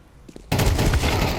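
Counter-Strike gunfire on the Train map during a pro match, a soft click or two followed by a loud sustained burst of rapid rifle shots at close range.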